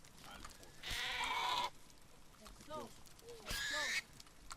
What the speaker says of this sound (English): Like a bunch of animals all of a sudden being slaughtered all at once.